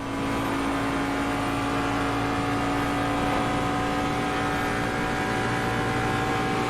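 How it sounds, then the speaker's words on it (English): A Jaguar GT3 race car engine drones steadily at a held pitch in the racing video game Assetto Corsa Competizione, loud and continuous, with a faint whine over the engine note. "Oh, listen to that engine. It sounds so sad now."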